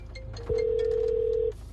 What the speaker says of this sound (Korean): 이 버튼을 누르시면 전화가 이렇게 걸리게 돼요